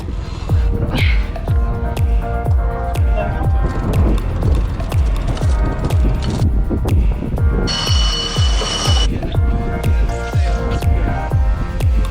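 Rhythmic mechanical ratcheting of a sailboat winch being cranked, a steady series of clicking pulses repeating quickly for the whole stretch, close and loud.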